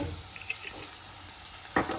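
Chow mein sizzling softly in a pan with soy sauce just added, a steady low frying hiss with a few faint clinks and one brief sharper spatter near the end.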